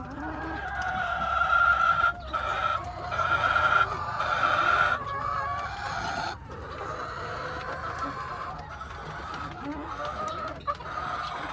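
Chickens clucking steadily close by on a morning farmyard, with several overlapping hens giving layered, busy calls throughout and brief dips between bursts.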